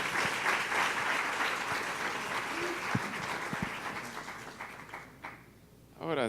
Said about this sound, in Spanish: yo quiero que usted reciba con un fuerte aplauso al querido amigo